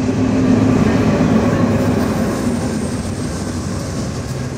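A train rolls along the tracks, a loud, close, continuous rumble with a faint clickety-clack of wheels that eases slightly toward the end, with no voices.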